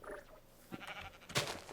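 A sheep in a video game gives short, faint bleats, two or three brief calls with the last one a little louder, over a quiet ambient background.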